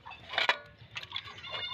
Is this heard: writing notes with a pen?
no